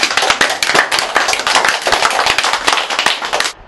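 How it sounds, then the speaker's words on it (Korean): Loud, close clapping from a crowd at a talk on a historical war hero, a dense burst of many hands that cuts off abruptly near the end. "박수 좀 쳐줘."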